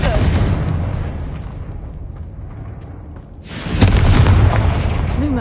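A loud explosive spell blast in the Hogwarts Legacy video game booms out, fades into a lower rumbling tail, then a second heavy burst swells back up at full strength.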